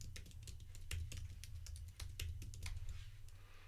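Fingers type a password on a computer keyboard, a steady run of quick, close key clicks at moderate level over a low background hum, with no talk.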